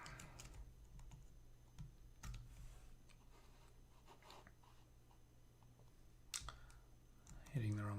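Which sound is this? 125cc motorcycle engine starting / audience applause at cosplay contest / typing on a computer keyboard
typing on a computer keyboard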